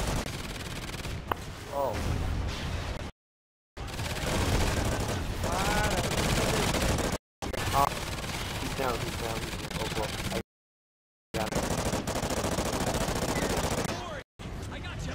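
Sustained automatic gunfire in a video game aimed at a rhino, loud dense bursts with brief silent gaps, under excited talk from several players.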